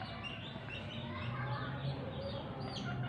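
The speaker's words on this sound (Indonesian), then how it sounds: "ayam-ayam pada berkeliaran." Chickens roaming a farm pen, soft scattered clucks and chirps at a low level over a constant background hum.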